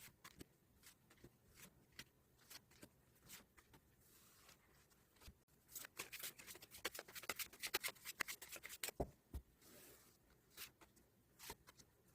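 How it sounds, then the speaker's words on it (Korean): Tarot cards being shuffled by hand, with soft, quiet riffles and slides that come in repeated bursts and grow busier partway through. "그럼 카드 셔플 진행해 보도록 하겠습니다."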